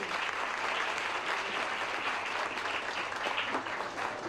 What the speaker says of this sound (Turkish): Onlara da iyi bir alkış gerekiyor